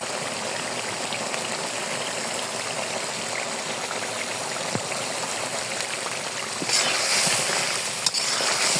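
Water streams steadily into a pot of broiler chicken and potatoes, a continuous splashing hiss, growing a little louder and brighter toward the end.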